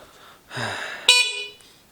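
Horn of a FADA RUTA 60-volt electric bicycle: two short electronic beeps, the first a buzzy tone and the second a brighter, louder one, heard close and alone over quiet background.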